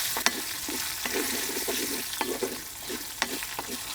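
Coriander seeds, ginger and green chilies stir-fried in a pan for a gourd buttermilk curry, giving a soft continuous sizzle broken by a dozen or so light spatula taps and scrapes at a fairly low level.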